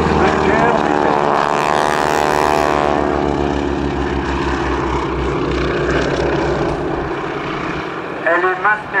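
A propeller aeroplane in an aerobatic display drones loudly overhead with a rising, shifting engine note throughout, while a voice speaks close by over it.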